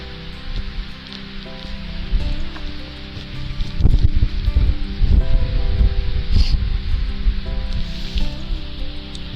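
Gusty wind on the Pentland Hills blowing loudly against the microphone in uneven, rumbling buffets that swell and ease, with rustling over the top and no talking.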